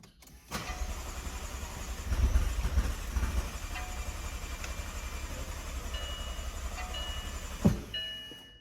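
McLaren 650 Spider engine cranking on its starter, a sustained churning mechanical whir heard close for several seconds with a brief bump midway, ending abruptly.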